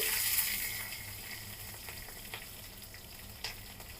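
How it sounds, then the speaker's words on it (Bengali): Asafoetida and chopped green chili sizzle in hot oil for a vegetarian sweet pumpkin dish, a steady close crackling hiss with a few sharper pops and no voices. "এখন আমি সামান্য করে হিং দিলাম, কাঁচা লঙ্কা কুচি"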